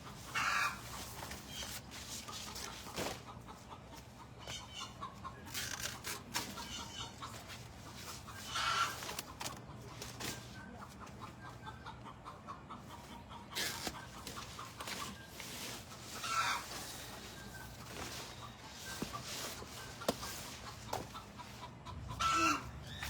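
Pet chicken clucking after laying an egg, faint intermittent clucks and calls at a distance, with a dog barking and rustling in the background.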